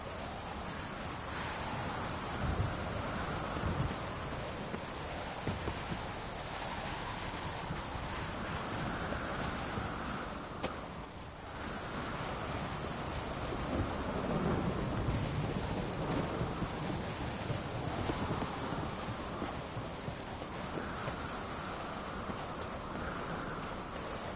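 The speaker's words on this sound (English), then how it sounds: "Storm, damn it." A thunderstorm in The Witcher 3 video game: steady heavy rain and wind with low rolling thunder rumbling through, continuous and even for the whole stretch, with no talking.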